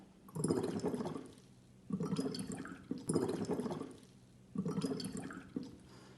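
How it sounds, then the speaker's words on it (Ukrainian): Air is blown through a drinking straw into a glass of water, making four rounds of bubbling gurgles with short pauses between them, fairly quiet and close. "нам потрібна склянка з водою трубочка. Наберемо легені повітря і подуймо трубочку."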